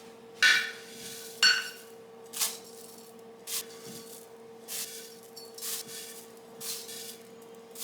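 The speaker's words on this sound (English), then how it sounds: "Now we are going to add our oats." Dry oats are scooped into a bowl of mashed bananas in a home kitchen, making a series of about nine short, rustling scrapes and pours, louder at first and softer later, with a steady background hum.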